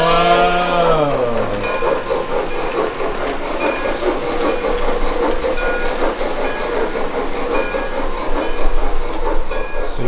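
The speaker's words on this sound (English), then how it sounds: "Controlling the train with this remote." A horn toots and slides down in pitch, then a remote-controlled Thomas the Train toy train runs steadily with a continuous whirring rattle and faint clicking.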